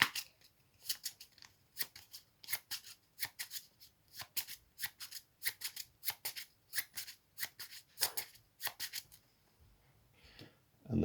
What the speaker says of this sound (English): So this needs to be shuffled.